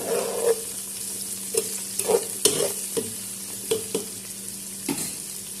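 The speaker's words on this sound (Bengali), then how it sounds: "টমেটোগুলো দিয়ে দিলাম নাড়াচাড়া করে দিলাম" Tomatoes, chili, garlic and onion frying in a hot pan, a steady soft sizzle broken by a series of spatula scrapes and knocks as the mixture is stirred, close and without speech.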